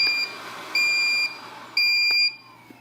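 Three loud, high-pitched electronic beeps from a LifeStyle RL880 window-cleaning robot alarm, signalling a fall, sound in a steady rhythm, each lasting about half a second, with no talking.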